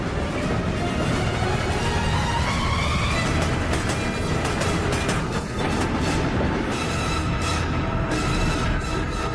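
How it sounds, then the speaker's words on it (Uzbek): A train runs on the tracks, a loud, close, continuous rumble with rhythmic clickety-clack of the wheels and some metallic rattling throughout. "Poyezd yo'lda."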